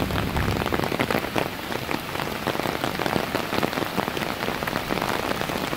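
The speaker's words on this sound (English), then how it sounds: "starting to rain hard" Heavy, steady rain pours down during flash flooding on the James River, a dense continuous hiss of drops drumming on surfaces, loud and close with no pauses.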